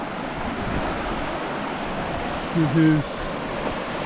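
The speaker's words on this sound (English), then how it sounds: "Crystal clear water coming down from up yonder there somewhere" Clear mountain stream rushing steadily down through Swiss National Park on a hiking trail, a broad continuous wash of water close by, with a brief spoken word partway through.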